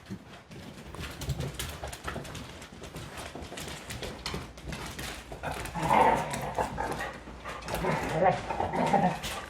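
Puppies let outside into a yard, with dog sounds mixed among birds and pigeons cooing, moderately loud and busy throughout, with louder bursts later on.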